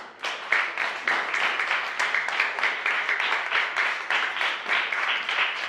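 An audience in a classroom ceremony bursts into warm applause, many hands clapping in a dense, even, fairly close patter that holds steady throughout.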